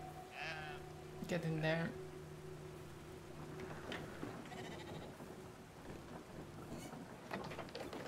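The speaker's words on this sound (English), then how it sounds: "The ragdoll sheep is amazing." Sheep bleating in the video game Brothers: A Tale of Two Sons, several wavering bleats early on, over a steady rain-and-thunder backdrop, with someone talking briefly.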